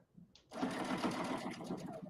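Domestic sewing machine stitching pieces onto a pair of kids' sweatpants, a steady close whirring run of about a second and a half after a soft lead-in, with faint talk behind it.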